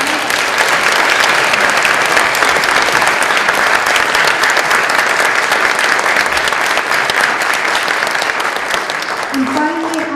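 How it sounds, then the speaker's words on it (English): Loud, sustained applause from a large audience for award winners at an MLK breakfast, a dense clapping roar that continues steadily and begins to fade near the end, with a voice briefly audible. "If we could give our award winners one more round of applause."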